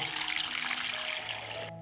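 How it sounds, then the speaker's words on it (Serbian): Water pours steadily into a cooking pot, a continuous hissing splash that cuts off abruptly at the end. "U šerpu sipam vodu do visine poklopca."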